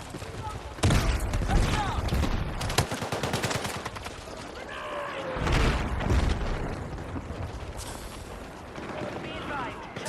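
A frag grenade is thrown and bursts in a military shooter video game amid steady gunfire and booms, with voices shouting over the combat.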